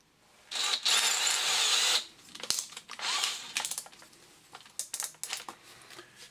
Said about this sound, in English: So I'm going to remove the hex bit, just open up the chuck.